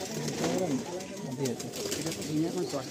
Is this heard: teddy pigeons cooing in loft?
yes